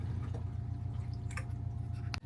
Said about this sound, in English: When we want to put water in it, you just pour it into the top,